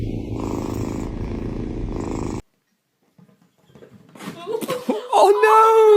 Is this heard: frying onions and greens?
no